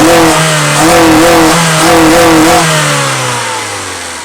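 A new car's engine revs loudly up close in several rising and falling surges, then winds down as the revs drop and the sound fades, with no talking over it.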